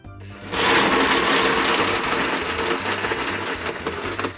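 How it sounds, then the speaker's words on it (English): A kitchen blender purees blueberries and chia seeds for jam, a loud, steady whirring grind that starts abruptly after a brief quiet moment and continues with a slightly wavering pitch. "we're going to blend these in a blender until we get to a nice puree."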